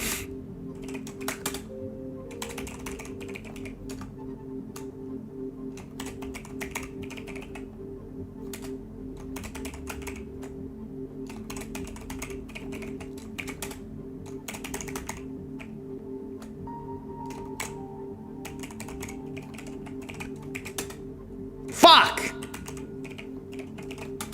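Passwords typed on a computer keyboard, bursts of quick key clicks separated by pauses, close up, with a sharp louder clack near the end and a person talking at times.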